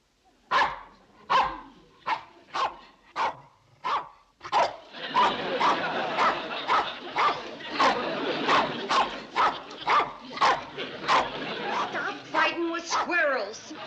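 A dog barks at squirrels, first in a string of separate sharp barks, then in rapid continuous barking over a noisy background, with someone talking over it near the end.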